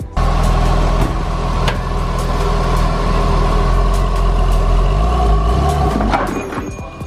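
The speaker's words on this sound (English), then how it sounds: "I helped my friend David put an exhaust on his 911" A Porsche 911 engine with a newly fitted exhaust idles and burbles loudly up close, a steady deep rumble with slight shifts in pitch and no talk over it.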